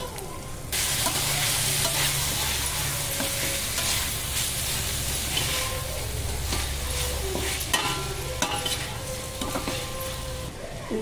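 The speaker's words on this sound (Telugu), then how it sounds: "ఇప్పుడు టమాటా ముక్కలు వేసుకుందాం" Tomato pieces dropped onto browned onions in a hot pan set off a loud, steady sizzle, with occasional scraping taps of a ladle stirring through the mix, close up and with no one speaking.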